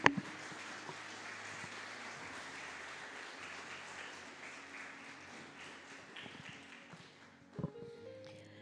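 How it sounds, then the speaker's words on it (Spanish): A church congregation claps together, with steady applause of moderate loudness that fades near the end and gives way to a sharp knock. "Dele una ofrenda de aplausos al Señor ahí"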